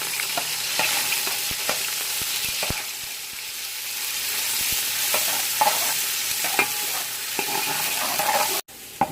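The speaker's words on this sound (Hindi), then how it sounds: "प्याजों को ब्राउन होने तक फ्राई करेंगे।" Onions fry in hot oil in a pot for chana pulao, giving a continuous bubbling sizzle broken by repeated sharp clicks of a spoon stirring against the pan.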